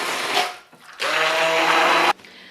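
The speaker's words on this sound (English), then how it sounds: "Now I'm just gonna take a immersion blender, stick blender to it, puree it up." An immersion stick blender purees roasted long pie pumpkin, a short burst of motor whine followed by a pause, then a longer steady high-pitched buzz that cuts off sharply.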